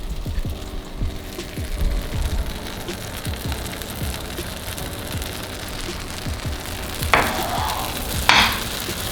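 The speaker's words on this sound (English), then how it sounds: "What I'm also gonna do is add some already sauteed veggies to the mix" Sauteed veggies are stirred into a refried bean mixture on a stovetop, with soft wet spoon strokes over a steady low sizzle, close and fairly quiet, with a couple of sharper scrapes near the end.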